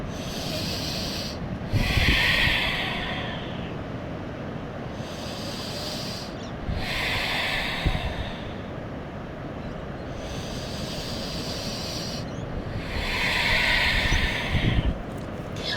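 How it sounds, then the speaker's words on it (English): Slow, deep breaths during a yoga session, each long airy inhale and exhale swelling and fading in a steady rhythm, close and fairly loud over a constant soft background hiss. "Let's take 3 deep breaths here."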